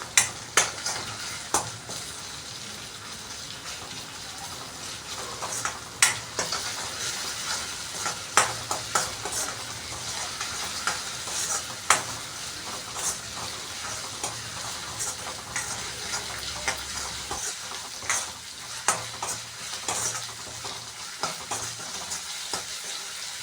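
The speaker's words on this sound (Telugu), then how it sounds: "అది కూడా బాగా పచ్చివాసన పోయేంత వరకు ఫ్రై చేసుకోవాలి" Ginger garlic paste and onions frying in a pan, a constant bright sizzle with regular spatula scrapes and knocks, loud at first and gradually more even over a long stretch without speech.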